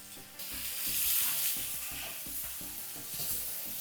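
Sliced onions sautéing with a pinch of powdered salt in a pan for upma, giving a soft continuous sizzle with rhythmic stirring knocks.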